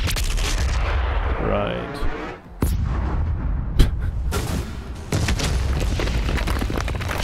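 A heavy weapon firing after an override loading sequence in Doom Eternal, with booming, artillery-like blasts and sharp reports over a dense, loud combat roar, and a brief voice in the mix.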